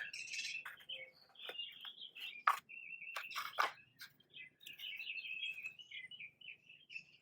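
A bird calls agitatedly and repeatedly, sharp chirps and scolding squawks in quick irregular bursts, fairly close, with no talking.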